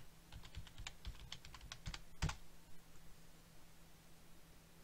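Keyboard typing to log into a Raspberry Pi: a quick run of soft key clicks in the first two seconds, then a sharper burst of keys, fading to faint room hiss. Nearby and fairly quiet, with no talking.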